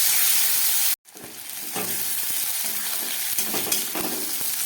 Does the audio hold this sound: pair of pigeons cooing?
no